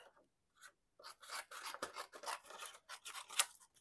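Scissors snipping through paper layers for a craft piece, a run of quick, close, crisp cuts in an irregular rhythm, quiet and dry with no voices.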